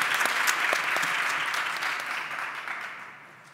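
Applause from an audience at a literary debate and poetry recital on creative writing, identity and racism, a dense steady patter of clapping that fades gradually toward the end.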